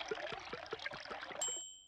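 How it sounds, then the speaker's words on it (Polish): Grandpa Dog fills the fuel tank of Peppa's car with petrol at his garage, a cartoon sound effect: a quick run of rhythmic glugging pours for over a second, ending in a bright ringing ding that fades out. "Dziadek pies napełnia bak benzyną."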